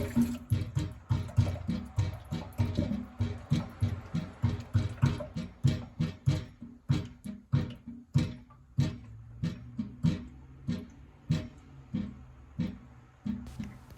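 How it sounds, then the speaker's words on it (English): Water being siphoned down an unvented S-trap drain pipe, a repeated rhythmic gulping and sucking pulse roughly twice a second, close and moderately loud, with no talk. "you can see and hear the water being sucked down"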